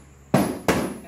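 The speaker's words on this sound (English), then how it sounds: "this rubber hammer to persuade the old sprocket from coming out" Two solid knocks from a rubber hammer driving an old front sprocket off a Honda C70 motorcycle, each a loud dull thud with a short ringing tail, spaced about a third of a second apart.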